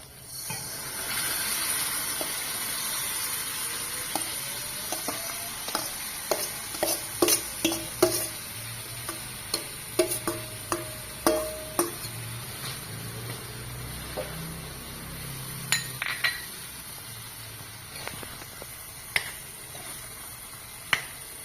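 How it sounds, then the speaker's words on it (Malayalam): Raw mango pieces stirred into chilli fried in oil for mango pickle, with a constant hot-oil hiss overlaid by many sharp, irregular spoon clicks and scrapes against the pan, close by and without speech. "മുളക് നന്നായിട്ട് മൂത്തൊക്കെ വന്നിട്ടുണ്ട്. അതിലേക്ക് മാങ്ങ ഇടുക."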